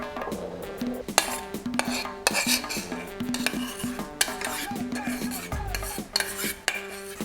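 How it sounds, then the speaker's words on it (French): Peanut-thickened water being poured through a kitchen strainer for a peanut flan, with close clinks of utensil against metal sieve and bowl, scraping and stirring sounds in an irregular busy rhythm, no voices. "Je vais filtrer ce mélange pour le rajouter à ma préparation."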